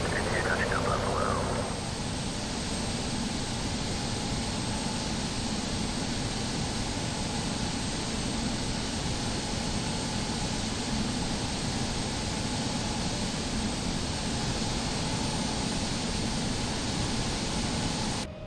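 Jet engines of an X-Crafts E-Jet in X-Plane 12 on a touch and go at runway 32, Buffalo: a steady, loud broadband roar heard from outside the aircraft, constant throughout, with a brief tonal whine at the very start.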